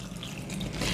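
Cold water pours steadily from a measuring cup into a Pyrex bowl, a close, continuous splashing trickle that swells slightly toward the end with no voices.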